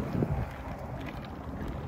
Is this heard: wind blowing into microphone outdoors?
yes